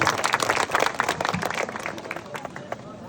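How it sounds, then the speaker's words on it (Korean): An audience at an autumn temple music concert at Naesosa in Buan claps to welcome the county governor, a lively burst of many hands that tapers off toward the end. "큰 박수로 모시겠습니다, 여러분"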